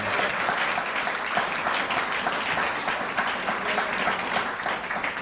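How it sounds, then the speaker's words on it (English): Sustained, dense applause from a sizable audience, loud and even throughout without a break. "So I offer him applause, please, for everything he's"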